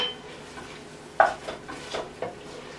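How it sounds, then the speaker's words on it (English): A utensil stirs minced garlic and onions in a pot for corn chowder, with a few sharp scrapes and clinks against the metal over a soft, low sizzle. "I'm going to put that in there. I'm going to stir that."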